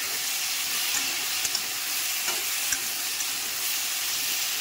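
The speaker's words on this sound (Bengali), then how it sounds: "আবারও আমি ভালো করে নেড়ে চেড়ে দেবো।" Vegetables and morola fish frying in a pan with pumpkin greens to come, a steady loud sizzle throughout with occasional faint scrapes and clicks of stirring, no voices.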